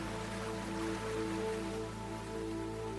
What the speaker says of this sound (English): One of those light rains that appears suddenly.